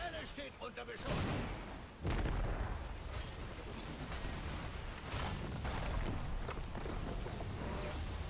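Attack fire hitting the citadel in Heroes of the Storm, a dense stream of booming blasts and impacts layered over game noise, with a voice talking over part of it.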